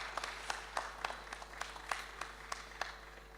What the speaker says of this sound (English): Can we have a round of applause for him, please?